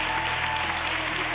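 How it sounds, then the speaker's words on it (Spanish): Studio audience applause on La Voz Kids, a dense, steady wash of clapping that stays loud and unbroken throughout, with no voices on top. "Leos Manny, Dani, un aplauso"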